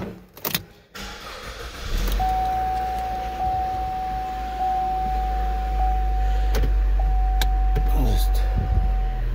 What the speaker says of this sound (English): Start her up real quick and just cycle it through the gears.